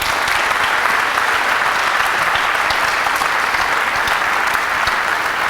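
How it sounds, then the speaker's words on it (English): A crowd applauds distinguished citizens at a school ceremony, the clapping dense, loud and unbroken for several seconds. "can we just have one more round of applause for our distinguished citizens?"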